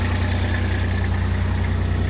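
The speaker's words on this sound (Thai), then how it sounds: "เอาติดเครื่องให้ดูครับ เครื่องยนต์นะครับ นี่ บิดกุญแจติดเลย" A diesel tracked dumper's engine idles steadily with a deep, even chugging hum, close and loud, with no voices.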